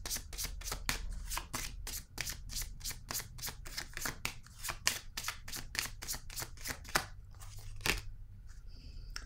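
Tarot cards are shuffled with rapid, rhythmic riffling snaps, about two per second, close and crisp, ending in a few softer slides and taps.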